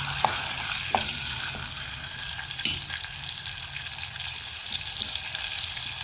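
Garlic frying in a pan while being stirred, for an Egyptian fatta: a steady close sizzle with a few sharp clicks of a utensil against the pan.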